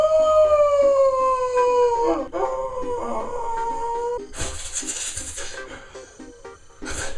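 A dog howls in long, sliding wails that rise and fall, then breaks into higher yips and whimpers, loud and close in a room, with no talk over it.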